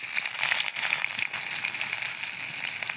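Onions frying in a hot pan after dried red chillies and five-spice tempering, a steady bright sizzle and crackle that runs evenly and close throughout, with no talk.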